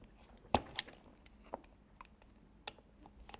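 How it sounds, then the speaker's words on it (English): Box cutter slicing into a plastic wiffle ball, giving a few sharp, close clicks and snips in quick succession with quieter scratches between, no talking. "I'm going to basically just cut with my box cutter"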